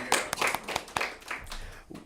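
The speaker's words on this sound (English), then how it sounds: "Let's give another round of applause to Ivy." A small group at a YDofCM community meeting claps for Ivy in a short round of applause: sparse, separate hand claps with uneven timing, fairly close.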